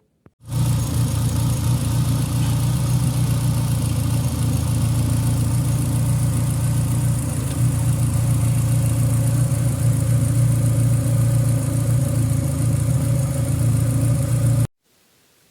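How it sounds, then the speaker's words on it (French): A Renault Clio 2 RS phase 2 172 hp engine idles steadily for about fourteen seconds after a timing belt job, a constant low rumble with no revving, then cuts off abruptly. "Le moteur a redémarré suite à la distri."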